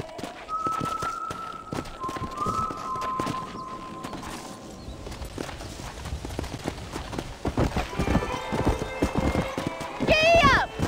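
Horse galloping in the Red Dead Redemption video game: a steady rapid clip-clop of hooves runs throughout, loud and close, with game music tones and a rising whinny-like squeal near the end.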